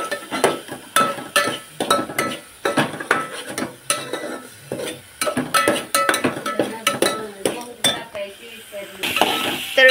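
A spoon stirs puran filling for puran poli in a metal pot, giving repeated close scraping clinks and knocks in an uneven rhythm, with a faint sizzle underneath.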